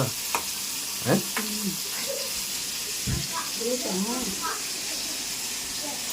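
Food sizzles steadily in hot oil while eggs boil in a pressure cooker in a home kitchen, a constant frying hiss with occasional clinks and stirring noises as a person talks nearby.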